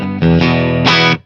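A Telecaster electric guitar played through a Danelectro FAB chorus pedal with all knobs at noon rings out in a few loud, shimmering strummed chords, each sustaining briefly before cutting off cleanly.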